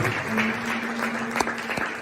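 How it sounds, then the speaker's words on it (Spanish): A church congregation claps together during a Spanish-language evangelical service, steady dense applause with a faint sustained tone running underneath and a few sharper hits, no talking over it. "Dale palmas a Jesús."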